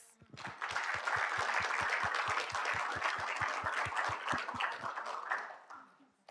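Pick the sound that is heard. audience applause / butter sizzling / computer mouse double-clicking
audience applause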